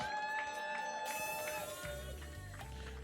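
A church congregation at an end-of-year thanksgiving service cheering and shouting loudly in acclaim, a dense roar of many voices with tonal music ringing through it.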